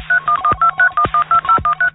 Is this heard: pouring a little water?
no